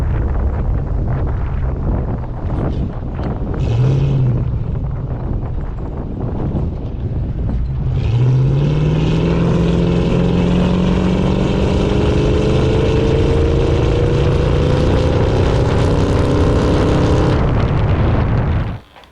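Wind buffets a car-mounted camera on a 2000 Ford Explorer with poor suspension driving over bumpy roads, a loud steady roar with a rising engine drone partway through, no voices.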